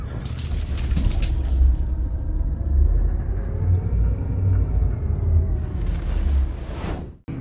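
A deep, throaty engine drones loudly and steadily during a desert ride, its low rumble mixed with rushing wind and fading out abruptly at the end.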